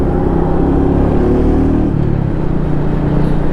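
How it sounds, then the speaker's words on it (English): Royal Enfield Meteor 350 cruiser motorcycle engine giving a steady, loud, low thumping growl that runs continuously and close by, with no voices over it. "the engine, you know, it's growl, it's low thumping growl"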